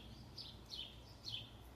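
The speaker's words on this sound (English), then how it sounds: "why do I keep hearing birds?" Birds chirping on a rainy day, three short high tweets spaced apart over a low steady background rumble, faint and somewhat distant.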